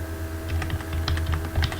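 Quick, close taps on a computer keyboard as an email address is typed, a brisk run of light clicks over a low background hum, with no talking.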